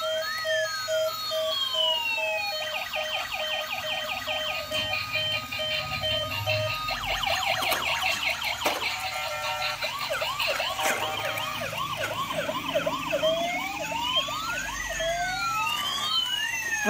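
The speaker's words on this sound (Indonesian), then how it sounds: "ini ada mobil ambulans teman-teman" Several toy emergency vehicles, including a toy ambulance car, sound overlapping warbling siren tones that sweep up and down, loud and continuous, with nobody speaking.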